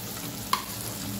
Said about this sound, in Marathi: मंद गॅसवर 1 ते 2 मिनिटं तांदूळ छान परतून घेऊया।